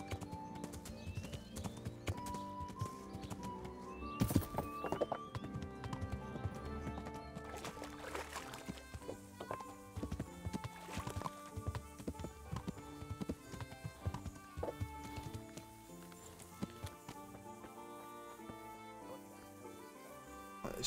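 Horse hooves clip-clopping in the video game Kingdom Come: Deliverance, a quick rhythmic gait over a busy game soundtrack, with an occasional whinny.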